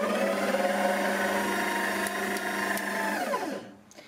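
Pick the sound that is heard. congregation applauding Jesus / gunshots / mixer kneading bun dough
mixer kneading bun dough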